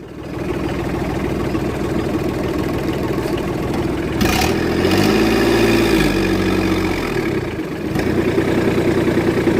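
A tractor engine idles close by with a steady, throbbing mechanical drone. Its pitch lifts and settles briefly partway through, as if the revs rise a little, with no talk over it.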